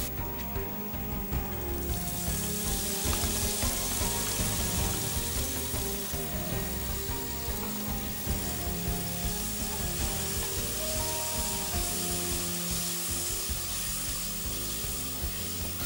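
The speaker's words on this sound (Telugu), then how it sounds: "ఇది వేగిన తర్వాత ఇందులో మెంతి కూర వేస్తున్నాం" Fenugreek leaves (methi) fry in a pan for a mixed vegetable curry, a steady, dense hiss and sizzle that stays close and constant throughout.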